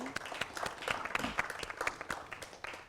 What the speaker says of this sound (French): On applaudit monsieur Paul Valéry.